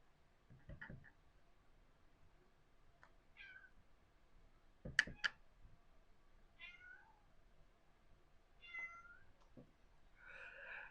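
A hungry house cat meows several times in a quiet indoor room, its calls short and clear and spread out with pauses between them, some louder and nearer than others; no one speaks.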